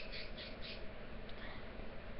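A pet bird squawks and mimics a person's voice in three short calls near the start, then gives fainter chirps over low steady background noise. No human talk is audible.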